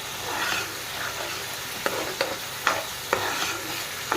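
Mint paste with turmeric sizzles steadily in a pan while a spoon stirs it, with several sharp scrapes and taps against the pan over the constant frying hiss, close up and with no talking.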